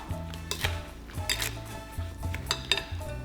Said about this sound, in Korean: 너무 오래 섞진 마시고 이 정도 설탕이 녹을 정도로만 섞어 두도록 할게요